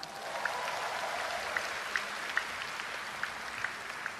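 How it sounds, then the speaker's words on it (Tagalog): A church congregation applauding steadily at a moderate distance, a continuous wash of clapping with a few sharper claps standing out. "Malakas kung pumalakpak."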